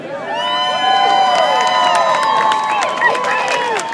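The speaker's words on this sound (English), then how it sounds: "Seems like we have quite a cheering section here." Crowd cheering and shouting for a high school marching band at a beach band review parade, a steady swell of voices with high whoops close by, lasting the whole stretch.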